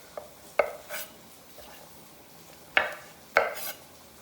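Fresh okra has its ends trimmed on a board: a handful of sharp, close knife chops land at irregular intervals, with quiet kitchen background between them.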